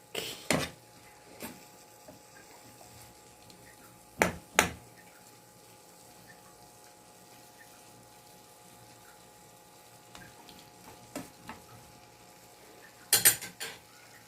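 A utensil clinks and scrapes against a pan as beef steak with onions cooks, with a few sharp metallic clanks spread across a quiet background hum.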